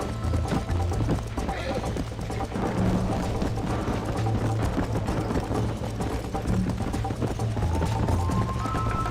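Horse hooves gallop in Red Dead Redemption, a steady clip-clop running under game music and effects while a person talks over it.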